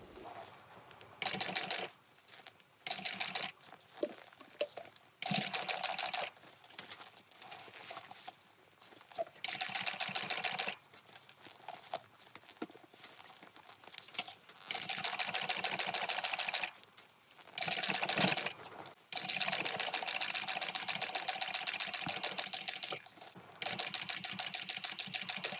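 A domestic sewing machine stitches a Park Mini Backpack by Rosie & David in loud, steady bursts of rapid whirring needle chatter, stopping and restarting many times with short pauses between runs.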